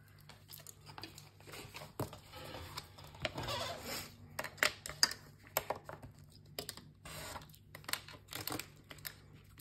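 Craft cutter blade slicing the four corners off a sheet of card, a run of close, crisp scraping and crackling strokes and small clicks, irregular and fairly quiet.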